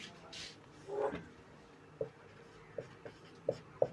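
A pen writes out a Class 10 maths solution on paper, giving a brief scratchy stroke followed by several short, sharp taps and ticks at irregular intervals, close and fairly quiet, with a faint voice at the start.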